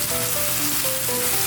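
Karela keema with onion and yogurt fries in a pan, giving a brief, steady, close sizzle with faint tonal sounds in the background.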